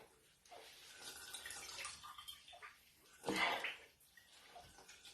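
Liquid squeezed and dripping out of dandelion wine mash by hand, soft trickling and splashing in short bursts with one louder gush near the end, quiet and close.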